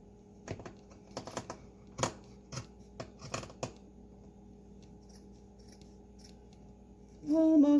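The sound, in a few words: scissors cutting fabric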